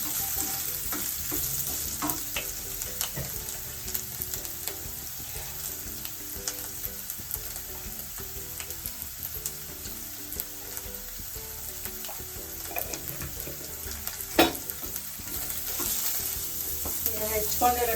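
Capsicum and turmeric fry in oil in a pan for puffed rice upma, giving a steady close sizzle with intermittent scraping and clinking as a spoon stirs them.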